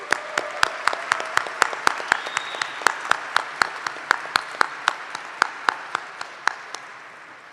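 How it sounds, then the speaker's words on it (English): Commencement audience applauding PhD graduates at a fall electrical and computer engineering ceremony, a steady crowd clapping with sharp individual claps standing out, fairly close and sustained, slowly thinning toward the end. "Let's have a round of applause for all of our PhD graduates."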